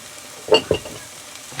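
Oil hitting a hot pan while making a leftover pork wrap with noodles, two brief close sizzling bursts with a faint hiss trailing off, no voices.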